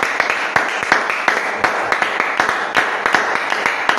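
A church congregation claps along together, sharp claps landing in a steady rhythmic pulse, loud and close, with no talking over them.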